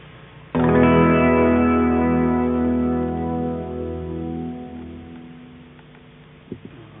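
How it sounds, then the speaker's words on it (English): A single strummed electric guitar chord rings out through a long reverb, loud at the attack and decaying slowly over several seconds, followed by a faint soft pluck near the end. "I can control the length of the reverb"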